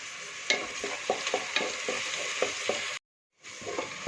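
Onions frying with salt in a pan give a steady sizzle, broken by repeated scraping strokes of a stirring spoon at a fairly even rhythm, with a brief full silence near the end before the frying resumes.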